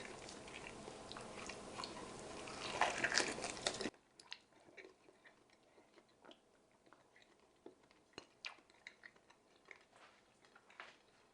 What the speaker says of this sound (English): very easy chewing through the meat